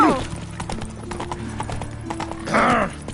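Horse hooves clip-clop steadily at a gallop in The Witcher 3 open-world video game, with a man's brief grunts and exclamations over the hoofbeats and a louder shout near the end.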